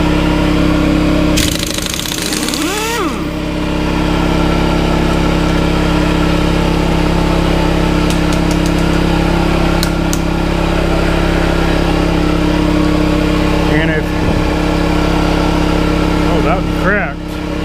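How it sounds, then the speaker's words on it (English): An air compressor runs loudly and steadily right beside the listener during a brake job on a 2016 Chevy Silverado, with a constant droning hum and a few clanks and rattles over it. "this air compressor is loud and I'm right next to it"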